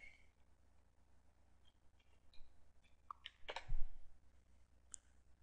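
A computer mouse clicks several times during screen-recording software setup, with sharp ticks spaced unevenly over a low steady hum and one louder cluster near the middle.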